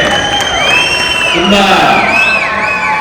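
A crowd at the Alpha film pre-release event cheers and whoops, with rising and falling shrill calls over a dense, loud roar of voices. Amplified talk runs underneath.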